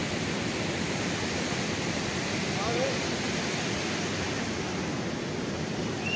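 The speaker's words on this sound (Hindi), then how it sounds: "आपको जो ये आवाज़ आ रही है पानी की आवाज़ है गंगा नदी की" Ganga river water rushes through the Ganga Barrage at Kanpur in a loud, continuous roar. The steady, broad torrent sounds close and unbroken throughout.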